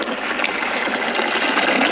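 Plain water pours steadily into a cooking pot that already holds ground chili paste, coriander, mint, ginger-garlic paste and tomatoes, giving a continuous close splashing rush for about two seconds.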